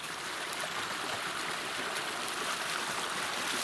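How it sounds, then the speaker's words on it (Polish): Steady rushing water of the Vistula river fills the scene, a continuous broadband wash with no pauses and no voices. "słyszę szum wody"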